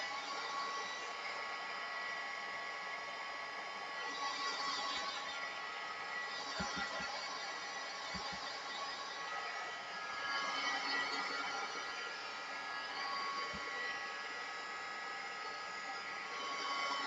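A hair dryer blowing steadily to dry acrylic paint on a canvas, a continuous broadband whoosh with only slight swells in level, close and alone with no talk.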